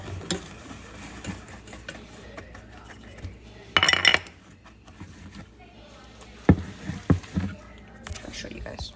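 Melted butter stirred together with white and brown sugar in a bowl for cookie dough, giving soft scraping and clinking of a utensil against the bowl with a few sharper knocks, under quiet nearby talking.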